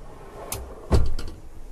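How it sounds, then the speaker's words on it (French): A large-capacity drawer in a Pössl 2 Win Plus camper van slides and shuts with a soft click, then a firm, close thump and a short rattle, with no talking. "Tiroir grand volume."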